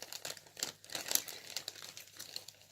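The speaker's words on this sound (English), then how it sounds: "I'm sorry for the crinkly noise," Close, crackly crinkling of plastic wrapping being handled, in irregular bursts of sharp rustles with no talking.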